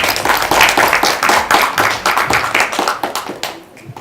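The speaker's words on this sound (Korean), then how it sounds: "큰 박수 부탁드립니다." Close, loud clapping from an audience at a Korean career-mentoring lecture, with a crisp, uneven patter of many hands that thins out toward the end.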